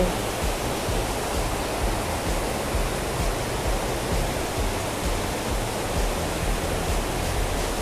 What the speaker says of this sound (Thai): ถึงน้ำตกบุญญาบาลแล้วนะ